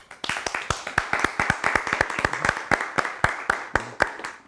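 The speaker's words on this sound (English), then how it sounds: "please welcome them with a round of applause" An audience at a music seminar panel claps in steady, dense applause, with sharp individual claps close by over a loud, sustained wash of clapping that runs the whole time.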